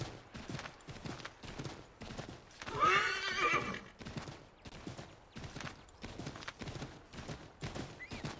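Horse in the video game Assassin's Creed III: steady rhythmic hoofbeats galloping close and clear, broken by one loud whinny in the middle, then the hooves continue without talk.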